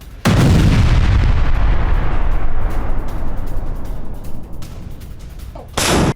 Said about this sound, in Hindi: गाज आर्टिलरी रेजिमेंट की ये भारी फायरिंग की तस्वीरें सामने आई है